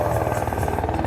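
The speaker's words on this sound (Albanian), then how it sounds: "Dron." A flying drone gives a steady, close buzzing whir with a fast pulsing rotor rhythm over a farm reality-show setting, sounding alone for about a second.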